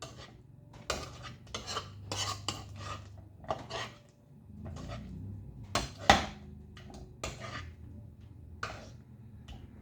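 A spoon scrapes and clinks against a pot while a cheesy hotdog and chocolate bread mixture is stirred, close-up irregular metallic strokes with brief pauses between them.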